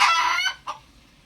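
A free-range rooster lets out a short, loud crow followed by a brief second squawk, close by and alone.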